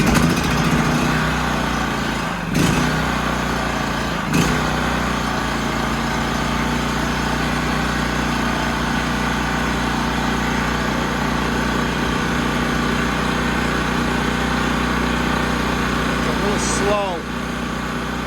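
Honda EB3000C generator running after a carburetor clean and rebuild, a loud, steady close-up engine drone with a few brief load changes.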